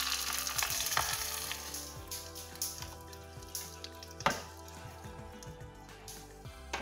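Hot oil tempering of dried red chillies and curry leaves poured over Onam-style cucumber pachadi, giving a loud, close sizzle that bursts at the start and decays into crackling pops and spits, with sharper flares near the middle.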